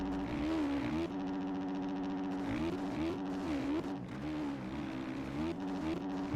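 Motorbike engine in a racing video game, a steady high-pitched drone that dips and climbs again as gears change through a corner, loud and close with no talk over it.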